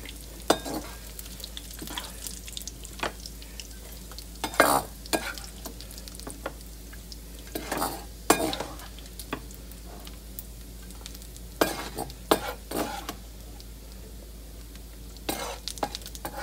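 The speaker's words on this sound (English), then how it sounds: "Now I'm sauteing." Bacon sizzles steadily in its grease in a hot pan while it is sautéed, a constant close frying hiss broken by scattered clicks and scrapes of stirring.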